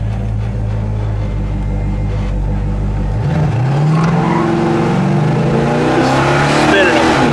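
A 1971 Chevelle convertible's V8 roars loudly as it revs and accelerates hard, pitch climbing steadily through the gears, with people talking over the engine.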